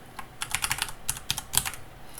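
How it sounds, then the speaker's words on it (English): Quick bursts of clicky keystrokes on a computer keyboard, tapped in short uneven runs and heard up close in a quiet room. "Right, so while I'm typing,"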